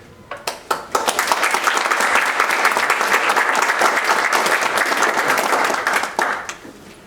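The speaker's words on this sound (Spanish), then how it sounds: "Recibamos a Marlon con un gran aplauso" An audience in a library hall applauds to welcome the author at a novel launch, beginning with a few scattered claps that swell into a loud, sustained round of clapping before tapering off to single claps.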